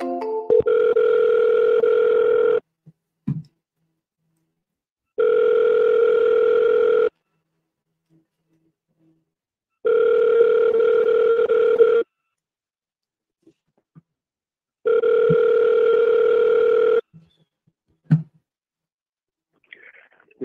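A telephone ringback tone repeats four times on an outgoing call, each steady two-second burst separated by about three seconds of silence, loud and clear with faint clicks between rings.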